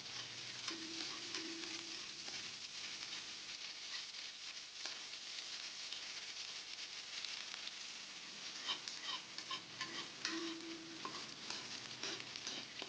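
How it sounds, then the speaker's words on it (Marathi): Finely chopped onion frying with garlic and cumin in a little oil, a soft, continuous sizzle with faint stirring scrapes, quiet and steady throughout with no talking. "लसूण चांगला गुलाबी झाला की त्यामध्ये बारीक चिरून ठेवलेला कांदा चांगला परतून घ्यायचा"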